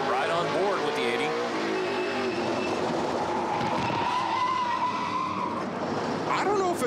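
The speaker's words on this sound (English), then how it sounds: "did you hear the brakes squealing on the onboard?" Brakes squeal on a NASCAR Pinty's Series stock car in an onboard camera view during a race, a shrill tonal screech riding over the loud engine roar while a commentator talks throughout.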